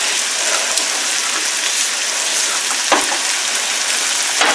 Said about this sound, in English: And we're going to start stirring and stirring and stirring and stirring.